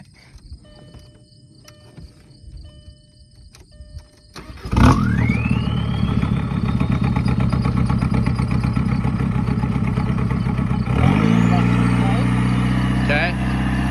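A car engine fitted with a custom tune starts up and is revved hard, climbing to a loud sustained roar that rises again near the end, with insects chirping beforehand and people talking throughout.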